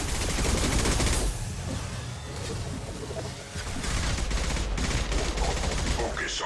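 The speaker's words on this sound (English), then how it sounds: "Firing a high impact shot!" A high impact shot in the video game Mass Effect 2 sets off loud, dense gunfire that rattles on almost without pause, dipping briefly midway before surging back.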